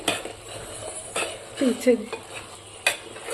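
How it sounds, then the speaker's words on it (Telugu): A spoon stirs minced mutton with ivy gourd and coriander powder in a pan, giving a few close scraping strokes and light metallic clinks over a soft sizzle. "1 స్పూన్ ధనియా పౌడర్ వేసి ఒకసారి మొత్తం కలుపుకోవాలి"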